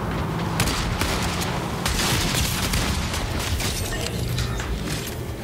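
Dense gunfire in the Fortnite video game during a sniper headshot challenge, a continuous barrage of shots and booms filling the whole stretch with no talking.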